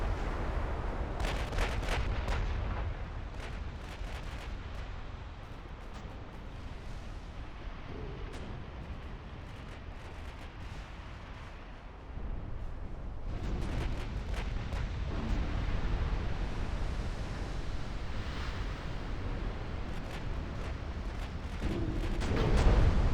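Repeated torpedo hits and explosions in a naval strategy game, Ottoman Campaign 1960 in Ultimate Admiral Dreadnoughts, come through as a steady rumbling barrage of booms and blasts with sharper bursts at intervals.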